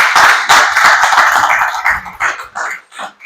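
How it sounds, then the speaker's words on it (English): An audience at a community election forum gives the candidates a round of applause, a loud, close burst of many hands clapping that holds strongly before thinning into fading, uneven claps near the end. "Let's give all these candidates a round of applause."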